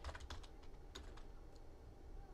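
Quick, close keystrokes on a computer keyboard come in a short burst, then a few scattered taps follow, quiet and with no talking.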